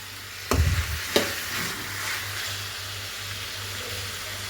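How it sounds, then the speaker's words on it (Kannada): Chicken for Guntur-style chicken sambar sizzles in a pan, with a couple of sharp scraping stirs near the start over a steady close frying hiss. "ಚಿಕನ್ ಹಾಕ್ಬಿಟ್ಟು ಅದು ವಾಸನೆ ಹೋಗ್ಬೇಕಂತೆ ಗೈಸ್ ಒಂಚೂರು. ಅದಕ್ಕೆ ಇವಾಗ ಹಿಂಗೆ ಫ್ರೈ ಮಾಡ್ತಾ ಇರಬೇಕಂತೆ"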